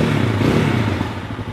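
A 2025 CF Moto 230 Dual Lite motorcycle engine runs close up, a brief loud rough burbling rev with clattering mechanical texture.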